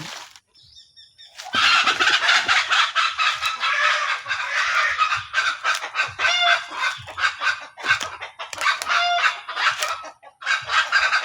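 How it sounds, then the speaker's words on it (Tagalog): Several chickens cluck and squawk close by in a busy, continuous chorus, with a rooster-like call breaking through now and then. "Yung mga manok po dito magkakalat itlog."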